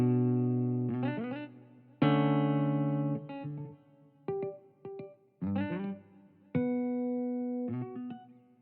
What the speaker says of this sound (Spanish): El sonido de mi guitarra solita es esto de aquí.